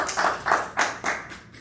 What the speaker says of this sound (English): Let's give April a round of applause.